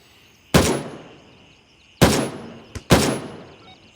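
AK rifle firing in the Gray Zone video game, three sharp close shots spaced about a second apart, each with a ringing decay, plus a faint extra crack just before the last shot.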